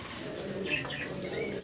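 A pair of yellow Lahori racing pigeons coos softly and close by, low murmuring calls over a steady background hum.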